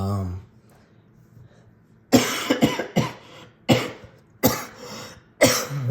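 A person coughs repeatedly while assembling a laptop from parts, several harsh close bursts after a quiet stretch with faint talk at the start.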